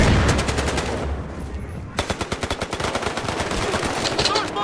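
Rapid automatic gunfire crackles in Battlefield Hardline during a bank heist match, long bursts of loud shots with a brief lull before a steady rattling volley resumes.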